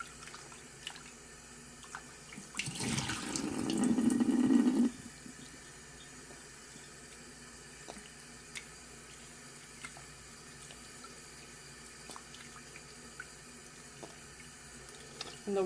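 Tap water runs into a mason jar to rinse freshly churned homemade butter, a loud splashing pour lasting about two seconds, then quiet with faint drips and small handling sounds.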